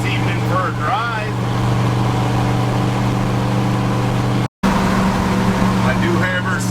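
A 1966 Chevy driving on an evening road, its engine giving a steady low drone and hum throughout, with a brief dropout partway, while voices talk over it.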